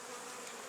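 Honeybees buzz at a hive frame laden with pollen and honey, a dense, continuous, steady drone of many wings, close and fairly soft, with no talk.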